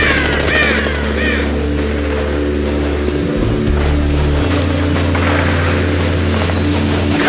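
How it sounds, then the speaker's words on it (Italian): Crows caw repeatedly in the war-torn Dubai setting of the game Spec Ops The Line, sharp harsh calls standing out over a steady low engine-like drone and wind. "Almeno i corvi non rimarranno a digiuno."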